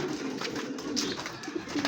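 Released birds call with soft, repeated cooing over a low, continuous background hum, moderately close and fairly quiet.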